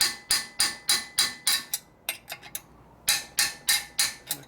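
Sharp metallic hammer strikes ring out in quick, even bursts as a 2-pound hammer taps the motor mount bolts on a 1979 93ci Harley shovelhead, with a short pause of lighter taps in the middle before the steady rhythm returns.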